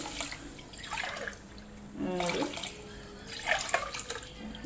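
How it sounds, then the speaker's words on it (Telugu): Glassfuls of water are poured onto rice in several separate bursts of splashing and gurgling with short pauses between them, heard up close against a quiet background. "ఇప్పుడు 4 గ్లాసులు వాటర్ వేద్దాం"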